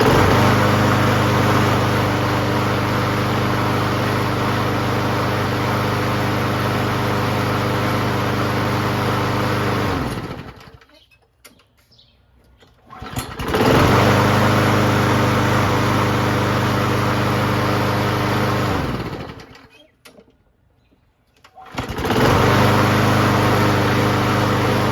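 Toro Recycler push lawnmower engine running at a steady, loud drone, cutting out twice into near silence before restarting, with no talking.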